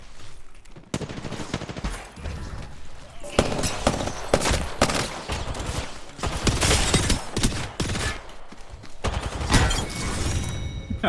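Gunfire in Apex Legends crackles in rapid, loud bursts and sustained automatic volleys, stopping briefly between exchanges, with a player's voice faint beneath the shooting.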